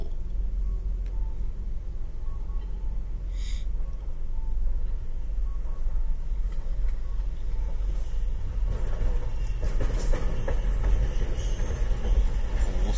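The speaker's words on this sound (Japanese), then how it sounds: "お、隣ほら、路面電車、路面電車、あの最新の方じゃないやつ。" An older-model streetcar passes close by on a city street in Okayama, a steady low rumble of wheels and traffic that swells louder and rougher toward the end, with no voices.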